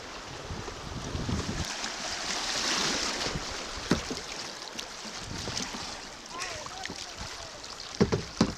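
A kayak runs the rapids of Antietam Creek, with steady rushing water and wind noise under occasional splashes and paddle knocks, a person's voice faint in the background.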